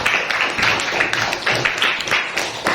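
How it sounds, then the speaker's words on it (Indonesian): A classroom of students applauds their classmate Amel with a lively round of clapping, fairly close and loud, continuing evenly throughout. "berikan tepuk tangan untuk Amel ya"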